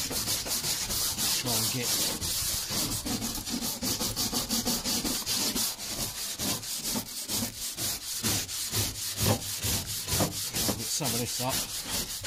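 Close, continuous rough scrubbing strokes, a brush worked back and forth over a roof surface, loud and rhythmic throughout; a voice briefly speaks over the scraping.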